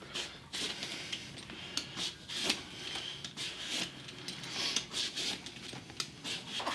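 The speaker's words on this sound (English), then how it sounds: "I peel my eggplants." A peeler scrapes along the skin of an eggplant in repeated short, rough strokes, soft and close, with a quiet scratchy texture and no talk.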